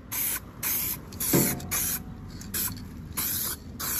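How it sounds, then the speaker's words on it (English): Aerosol spray paint hisses on in light, short bursts over plastic interior trim from a G-body car, about seven separate passes of spray with brief gaps between them, close by and steady in level. "We just gonna dust that in. Just give it a little light coat."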